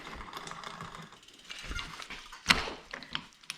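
A wrench tightens a bicycle seat post with quick ratcheting clicks and small metallic turns at close range. One sharp clack stands out in the middle, and there is no talk.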